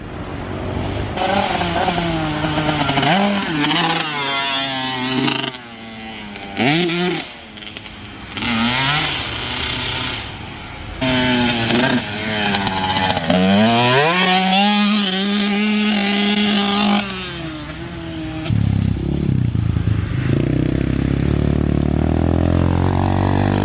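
A Kawasaki KX65 dirt bike engine revs up and down repeatedly on a motocross track, rising to loud buzzing whines and dropping back, with short feathered throttle blips and a lower rumble near the end.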